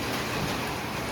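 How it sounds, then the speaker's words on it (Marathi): Rain falling steadily outdoors at the start of a shower, a dense, even hiss of drops on surfaces with no talking. "छान पावसाला सुरुवात झाली आहे."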